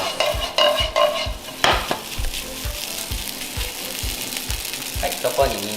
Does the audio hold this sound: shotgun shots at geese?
no